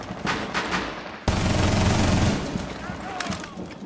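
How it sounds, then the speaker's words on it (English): Gunfire through a window in Rainbow Six Siege, a sudden loud burst of rapid shots cutting in after a quieter stretch and rattling on for a couple of seconds, with voices briefly audible. "Someone's shooting through this window."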